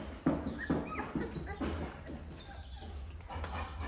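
Young puppies whimper and yip in a series of short, high, close cries repeating roughly every half second, with a person briefly talking nearby.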